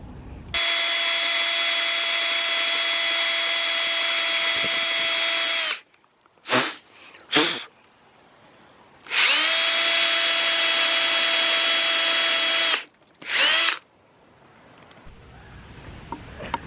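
A power drill fitted with a drill stopper cuts a groove in wood while a pedestal stool is being built. Two long, loud, steady high-pitched whines come up close, each followed by short bursts, with quiet gaps between them.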